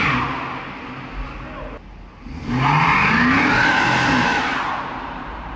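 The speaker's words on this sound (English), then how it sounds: "I'll just show you a clip of one other time that I did a burnout with my car" Dodge Challenger R/T with a 5.7-litre Hemi V8 doing a burnout, the engine revving hard and rising in pitch with rushing tyre noise, loud and close before easing off at the end.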